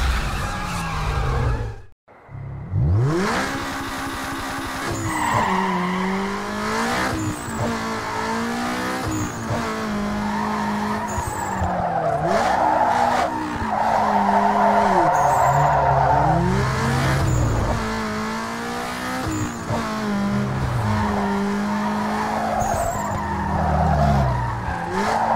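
In the Need for Speed Underground 2 video game, a car engine revs hard and tires squeal through repeated skids, loud and continuous for about twenty-five seconds after a brief drop in sound near the start.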